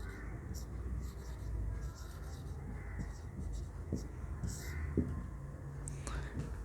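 A pen scratching out the construction steps of an isosceles triangle geometry proof, faint and close, in soft uneven strokes while a voice speaks quietly over it.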